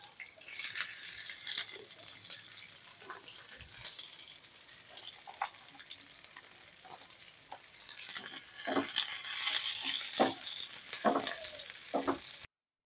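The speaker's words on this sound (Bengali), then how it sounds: "আমাদের তেল হিট হয়ে গেছে আমরা একটু সামান্য জিরে দেবো এবার আমরা পেঁয়াজ কুচিগুলো দিয়ে দেবো" Chopped onions tumble into hot oil with cumin seeds, giving a steady bright sizzle with scattered stirring clatters and spatters, close and fairly loud, no talk.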